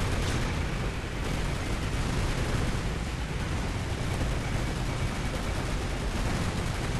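Dense, continuous battle noise of gunfire and explosions from the video game Call of Duty Modern Warfare 3, a loud steady barrage with no pauses and no talk.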